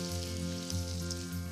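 Cumin seeds, red chili and onion crackle in hot oil for a dal tadka, a close, constant sizzle with faint stirring thumps underneath.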